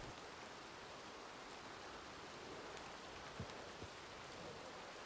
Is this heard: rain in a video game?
yes